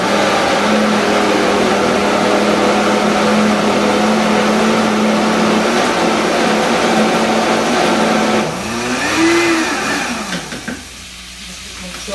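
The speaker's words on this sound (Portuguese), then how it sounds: "Se a Maria tivesse aqui, ela estaria dançando com o barulho do liquidificador" Kitchen blender running in a home, a continuous loud motor whir with a steady hum that wavers and shifts pitch near the end as it slows and stops.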